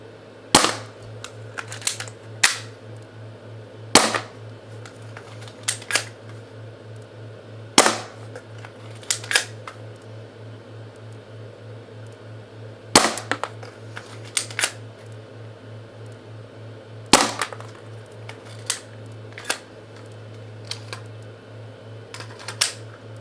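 A Stinger P9 pistol is fired at a target from about three to four feet away, producing sharp snapping shots, often in quick pairs or bursts, over a steady low electrical hum.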